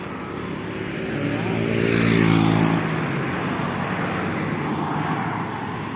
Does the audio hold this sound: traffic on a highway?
yes